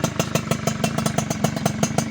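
Rare Suzuki Sprinter motorcycle with a Satria piston, its small engine running close up with a fast, even, popping idle pulse and metallic clatter throughout.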